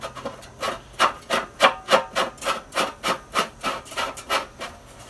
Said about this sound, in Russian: тут даже откручивается крышечка